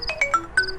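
Short electronic mobile phone ringtone: bright, tonal chime notes repeating in a quick melodic pattern, close and clear with no talking.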